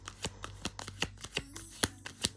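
A deck of tarot cards being shuffled by hand, a quick run of sharp papery riffles and taps in an irregular rhythm, close and clear with no talking.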